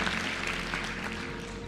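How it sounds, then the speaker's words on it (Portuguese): A live seminar audience breaks into dense, continuous applause, a steady wash of many hands clapping together at moderate loudness. "Uma salva de palmas para ele"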